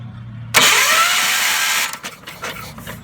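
A 1978 John Deere 312 garden tractor engine cranks over with a loud, close, steady starter whir lasting over a second, then the sound drops into scattered mechanical clatter.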